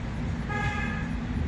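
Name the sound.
car horn honks from passing traffic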